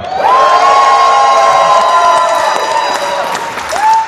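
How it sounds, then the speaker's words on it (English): Loud crowd cheering and whooping for the wrestler Lumbersnack Tom Dyke fills a convention hall during a live wrestling vote, a sustained close roar with a high shout rising near the end. "And if you think it is Lumbersnack Tom Dyke, please cheer now."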